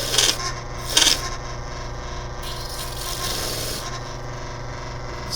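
Power sander working the ends of a reusable mold box for casting scale model parts, a steady loud whirring hum with harsher rasping bursts near the start and again around four seconds, no talking.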